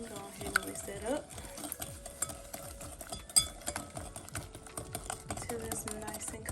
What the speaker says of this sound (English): go ahead and whisk that up